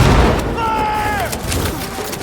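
Gunfire in the video game Cyberpunk 2077: sharp, loud shots with a ringing whine, mixed under voices and game noise.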